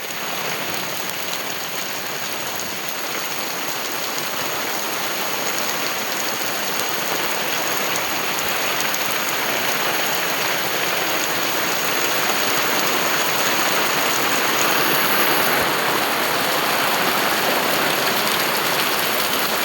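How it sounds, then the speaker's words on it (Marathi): Heavy monsoon rain pours down over the Konkan countryside in May's first storm, a dense, continuous hiss of drops on surfaces that stays loud and unbroken throughout, with no voices. "बघू शकता तुम्ही केवढा मोठा पाऊस आलाय."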